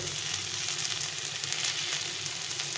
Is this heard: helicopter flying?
no